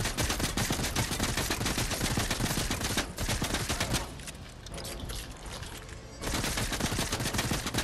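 Dense rapid gunfire in a building-and-shooting video game, loud continuous bursts of shots with a brief thinner lull in the middle before the heavy firing resumes, no talk over it.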